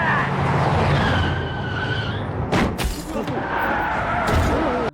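Car ramming into gang members in a fight scene, with engine noise and tire skidding followed by sharp impact slams midway and again near the end, under a background voice.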